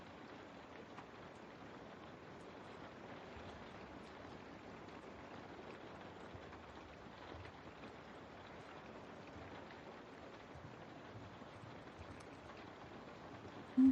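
Soft, steady rain falls as a faint, even hiss that holds unchanged throughout, distant and gentle with no voices over it.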